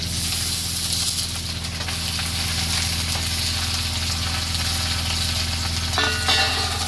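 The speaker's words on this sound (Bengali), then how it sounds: "এবার আমি রাঙা আলু আর সিমটা দিচ্ছি।" Chunks of sweet potato and beans frying in oil in a pan for a Bengali labra dish, giving a steady, close hiss and sizzle throughout, with a brief stir or clatter near the end and no talking.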